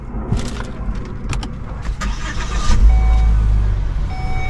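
A Volvo with push-button start being started, a car engine turning over and settling into a steady idle, close and fairly loud, with no talking over it.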